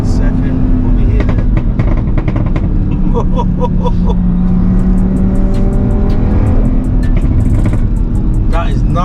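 Stage 3 big turbo Audi RS3 of about 700 bhp accelerating hard in second gear on the street, a loud, continuous engine roar heard from inside the car with turbo whistle and clicks, while people talk over it.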